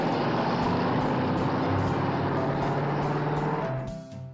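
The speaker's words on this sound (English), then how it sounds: "truck," A heavy truck rumbles along a street, a loud, steady engine drone with a low hum that fades out near the end.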